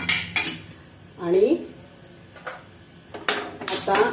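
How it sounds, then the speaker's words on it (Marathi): A metal tempering ladle clanks against a pot several times as it is set down, sharp ringing knocks separated by short pauses, with a brief scrape in between. "फोडणीची पळी बाजूला ठेवूया"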